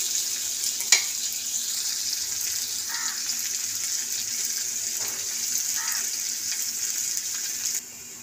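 Onion and panch phoron frying in a pan for doi kochu, a continuous close hiss with a few soft scrapes and one sharp clink, running steadily until it drops away near the end.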